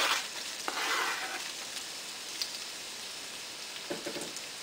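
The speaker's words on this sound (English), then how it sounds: "Once the oil is heated, we add onions and pepper" Onions, pepper and garlic frying in hot oil give a steady, soft sizzle that begins a bit stronger and then settles, with a few light scrapes and pops, heard close but quiet and without talking.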